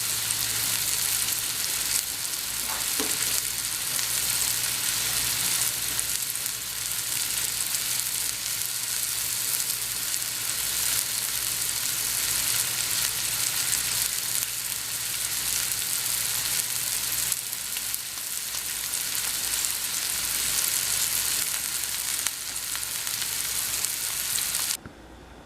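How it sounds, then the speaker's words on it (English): A beef roast sears in a hot pan before going into a crockpot, sizzling loudly and steadily with a constant spattering hiss that barely wavers, close by and with no one speaking. "see how it's nice and seared on this side? I'm going to get the other side just the same way"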